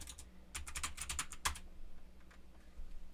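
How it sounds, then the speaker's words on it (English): A password is typed on a computer keyboard in a quick, uneven burst of close, crisp key clicks, followed by a few scattered, fainter taps in a quiet room. "So now we're going to put in our password."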